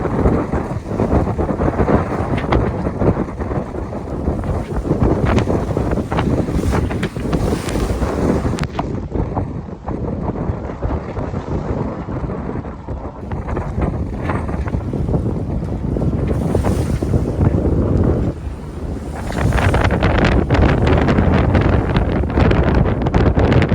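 A sailing school yacht runs in a north-northwesterly wind. Strong gusts buffet the microphone, with water swishing against the hull, loud and uneven throughout, easing briefly in the middle before surging again.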